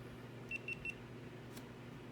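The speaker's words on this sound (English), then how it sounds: "Get that little beep." Three quick, high electronic beeps in a row from a GoPro Hero 7 camera powering on, followed by a short click, over a steady low hum.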